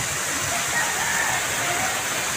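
Steady rushing water pours continuously at the Talon Resort waterfall in Santo Tomas, Batangas, a broad unbroken hiss filling the scene from nearby with no pauses.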